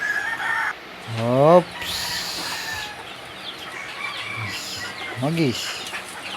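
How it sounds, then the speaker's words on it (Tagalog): Several chickens cluck and a rooster crows loudly at close range, with a second crow following, while a person speaks briefly in between. "Dito na ipapakita ko yung mga manok ko."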